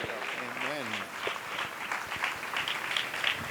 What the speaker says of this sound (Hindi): जोरदार तालियां खुदा के खादम के लिए बजाइएगा।